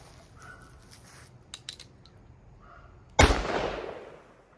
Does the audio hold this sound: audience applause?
no